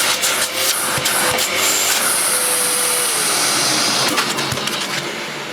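Hoover Purepower U3125 upright vacuum cleaner, a 1200 watt machine, running steadily with a loud, continuous whine and rushing suction hiss, with a few knocks and bumps as it is moved, no talking.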